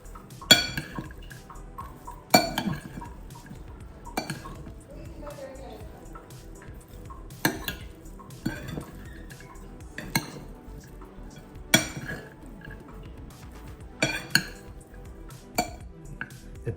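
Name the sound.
mixing salad with cheese in a bowl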